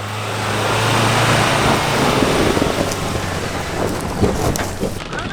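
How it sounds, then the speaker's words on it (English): Heavy rain from an afternoon thunderstorm near Bellingen, Australia, pours steadily in a dense hiss, with low rumbling thunder swelling and fading beneath it and scattered sharper drops near the end. "One of these big afternoon storms has rolled in"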